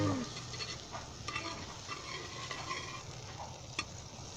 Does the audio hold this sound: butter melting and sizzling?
yes